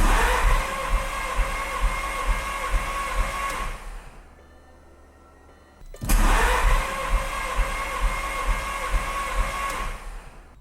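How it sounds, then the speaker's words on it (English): A Lamborghini/Audi engine cranks over with its spark plugs removed during a compression test, giving a steady, loud rhythmic whirring chug that stops for about two seconds and then resumes at the same even pace. "we'll actually be able to hear the compression in the motor as we're turning over the motor"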